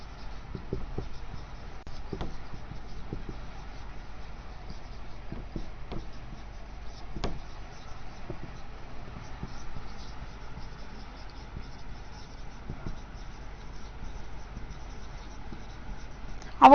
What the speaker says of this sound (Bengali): আমি একটু উপরে লিখছি।